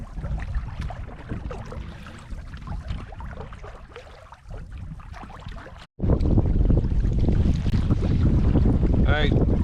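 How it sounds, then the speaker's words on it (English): Gusty headwind roars across the microphone while a canoe is paddled east on a big open bay near Smooth Rock in Wabakimi, the buffeting steady and loud, easing briefly before a sharp cut and returning stronger. "paddling east to a pretty gusty headwind out on a big bay here in Smooth Rock"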